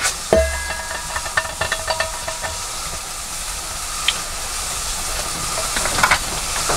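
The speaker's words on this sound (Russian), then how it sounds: "Сейчас я поставил чайник. Пусть закипает." Steady hiss of a kettle heating, with scattered clicks and small pops from the warming metal, fairly close and continuous.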